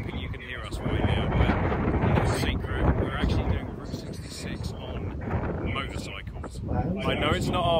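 Strong gusty wind buffets the microphone outdoors in Oklahoma beside a campervan, roaring and rumbling in uneven surges while people talk over it.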